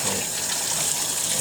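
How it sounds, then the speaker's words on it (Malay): Water rinsing items to wash away impurity during an industrial sertu ritual cleansing demonstration: a steady, close gushing flow with no break. "yang lain pun kita kita basuhkan dulu, hilangkan air najasat"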